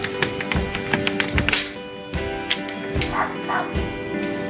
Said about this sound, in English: the neighbor's dog is barking at me like crazy